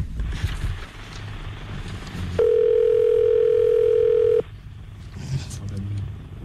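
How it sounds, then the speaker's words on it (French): A single long telephone ring tone on a call line to a radio studio, a steady tone lasting about two seconds, loud and close, with studio talk and background noise before and after it. "Ça sonne chez Marie-Paul, c'est bon ça"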